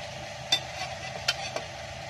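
Garlic sizzles gently in a hot pan, with a few sharp scraping clicks of a spoon stirring it about three times over a steady low fry.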